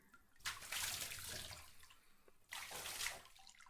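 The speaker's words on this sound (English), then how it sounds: "I will just wash you in the tub then." Water splashing in a bathtub in two bursts of sloshing and pouring, quiet and close, with a lull between them.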